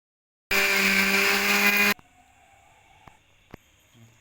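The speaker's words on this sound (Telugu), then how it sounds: "ఇవన్నీ నేను మిక్సీ జార్లో వేసి" Mixer grinder whirring loudly and steadily for about a second and a half as ingredients spin in the mixie jar, then cutting off abruptly, leaving faint clicks and light handling sounds.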